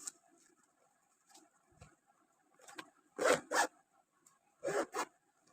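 A zipper on a handmade fabric tiffin lunch bag is pulled in several quick, quiet rasps, the last few strokes louder and closer.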